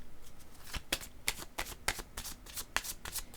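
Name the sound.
shuffling a deck of tarot cards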